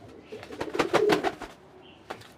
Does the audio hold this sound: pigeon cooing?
yes